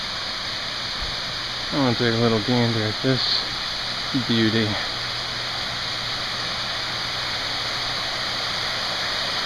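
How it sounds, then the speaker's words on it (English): Lucifer Falls, a 115-foot waterfall in the Finger Lakes, gives a steady, broad roar of rushing water throughout, with someone talking briefly over it. "We have arrived at Lucifer Falls, which is 115 feet high."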